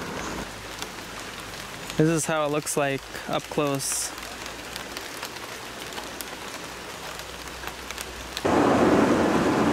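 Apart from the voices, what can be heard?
rain starting to fall during hike on Praslin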